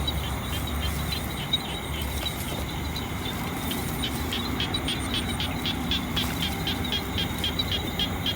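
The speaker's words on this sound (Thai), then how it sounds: "เสียงกบเสียงเขียดร้องอยู่นะครับ" Frogs croak steadily through a rural night scene in Thailand, a dense chorus of repeated calls with insect-like buzzing layered above, moderately near and continuous with no talk.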